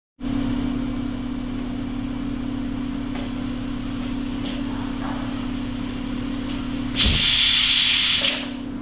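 A pressure cooker cooking mushroom rice porridge with carrots hisses steadily over a constant low hum, then bursts into a loud, sharp whistle of escaping steam for over a second.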